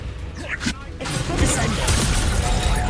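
Accio spell effect in the Hogwarts Legacy game on PS5, a brief whooshing magical cast followed by a steady dense rumble of game sounds, with voices heard during the clip.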